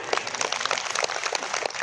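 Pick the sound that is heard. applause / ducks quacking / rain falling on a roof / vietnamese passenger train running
applause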